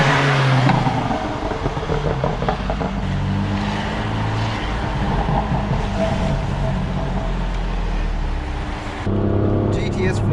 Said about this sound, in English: there is definitely a noticeable difference in the exhaust, especially on the downshifts